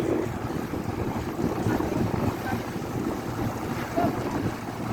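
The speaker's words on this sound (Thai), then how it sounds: "ลมแรงมากครับตอนนี้" Strong wind roars steadily into the microphone during heavy rain, a loud continuous rush with gusty swells and no clear voices.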